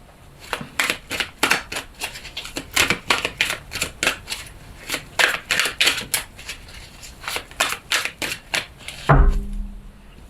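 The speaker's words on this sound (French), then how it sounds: "On va continuer avec le tarot du destin. On va prendre 6 cartes." Tarot cards being shuffled and drawn make a steady run of crisp, close slapping snaps in quick rhythm for about nine seconds, ending with a heavier thump.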